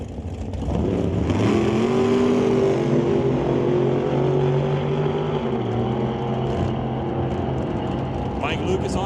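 Drag race cars, a 1968 Camaro and a Chevy, each with a big block Chevy motor, at a raceway during qualifying; a loud sustained engine roar holding steady, then fading slightly near the end.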